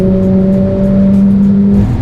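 A 2020 Mercedes-AMG A45 S accelerates hard with traction control switched off. Its engine gives a loud, close, steady droning roar, and the pitch dips slightly just before the end.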